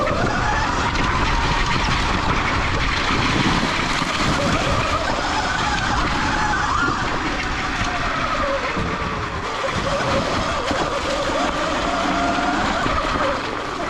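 Stock Sur Ron X electric dirt bike ridden at full throttle along a snowy, icy trail, a steady loud whine with continuous wind and tire rush close by, shifting slightly in pitch as the bike runs on.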